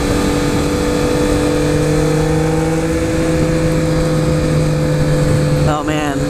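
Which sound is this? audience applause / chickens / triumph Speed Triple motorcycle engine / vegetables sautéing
triumph Speed Triple motorcycle engine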